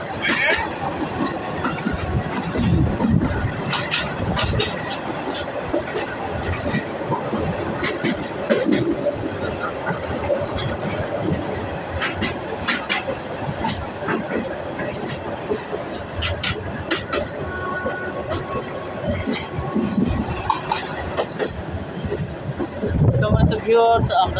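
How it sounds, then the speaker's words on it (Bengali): A train rolls into a railway station in Bangladesh with a continuous rattling rumble and clatter of carriages, close and steady, while a person talks over it throughout. "রেলওয়ে স্টেশনে প্রবেশ করছি আপনারা দেখতে পাচ্ছেন ট্রেনের ধীরে ধীরে সংকুচিত হয়ে আসছে কমে আসছে"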